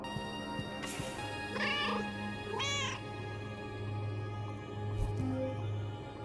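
Several meows from a cartoon cat in the puzzle video game Schrodinger's Cat Burglar, at the character-customization booth, heard alone over a steady hum of game music.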